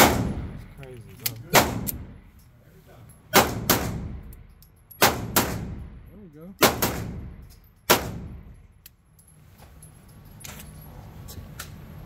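Outdoors, a firearm loaded with unreliable, misfire-prone ammunition fires a series of loud, sharp gunshots, mostly in quick pairs. Each shot leaves a ringing echo tail, and the shots are spaced irregularly by pauses.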